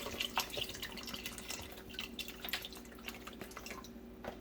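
Liquid splashes and trickles into a Fissler Souspreme multi pot holding red beans and sausage, a soft, close, uneven pour with dripping spatters and no voices.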